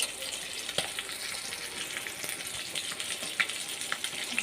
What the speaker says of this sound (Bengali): দেখেন মাছগুলো লাল লাল করে ভাজি নিতেছি